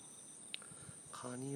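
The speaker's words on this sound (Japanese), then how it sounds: "虫の音がめちゃめちゃいい音だよ。" Insects chirp at night outdoors, a faint continuous high whine running throughout, while a voice starts speaking near the end.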